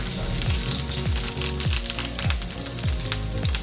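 Ginger frying in a pan for sizzling squid gives a loud, continuous sizzle and crackle, with regular low thumps about every half second.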